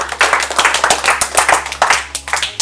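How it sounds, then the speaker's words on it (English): An audience at a motivational workshop claps in a loose, fairly rhythmic burst of close, distinct hand claps, loud and without talking. "Can we clap for her?"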